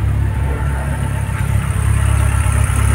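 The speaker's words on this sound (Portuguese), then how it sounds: "o barulho do motor até mudou" A Volkswagen Kombi van engine, run after a year sitting unused, idles steadily up close, a low even rumble with no revving.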